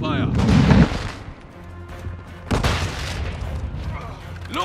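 Video game combat with loud bursts of gunfire and booming explosions, a heavy blast at the start and another around the middle, over continuous rumbling battle noise.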